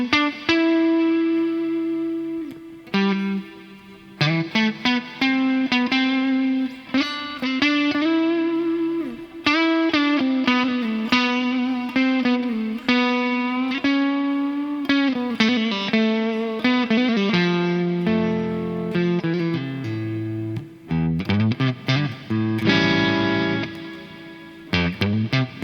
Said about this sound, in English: so it's got a plate style reverb like that